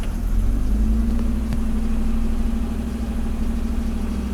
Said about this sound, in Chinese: 来看它怠速大概是在800转左右哦，怠速800转左右啊